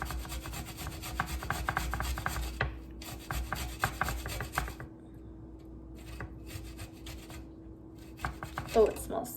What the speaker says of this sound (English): let's go ahead and grate some garlic here